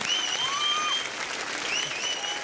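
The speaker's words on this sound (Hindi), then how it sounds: "बहुत बहुत तालियां आपके लिए।" Studio audience applause for the contestants of a Hindi poetry competition on television, with a steady bed of clapping and several bright whistles rising over it, fairly even throughout.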